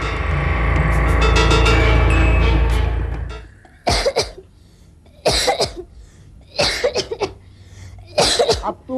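A woman coughs in loud, harsh bursts, first one long rasping stretch and then several separate coughing fits spaced a second or two apart, close and clear with no talk.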